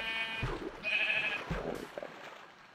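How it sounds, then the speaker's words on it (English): A sheep in the Minecraft video game bleats in two short calls about a second apart, moderately loud over a steady game background with no talking. "let a sheep go away"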